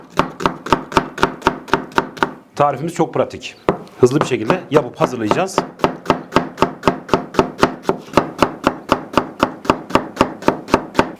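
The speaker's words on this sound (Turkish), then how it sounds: "Soğanımızı yemeklik doğrayacağız." Rapid, steady knife chops through onion on a cutting board, dozens of crisp evenly spaced strikes, with a short spoken pause partway through before the chopping resumes.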